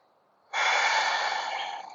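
One long, audible exhale during a yoga session follows a short quiet pause, breathy and close, tapering off gradually over about a second and a half.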